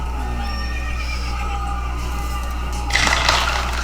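A horse whinnies over a steady game backdrop, then a brighter burst of noise rises near the end.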